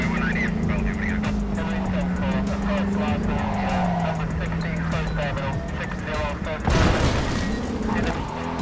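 A car drives in the game Cyberpunk 2077, its engine droning steadily and shifting in pitch, with a sudden loud burst of tire noise near the end while someone talks over it.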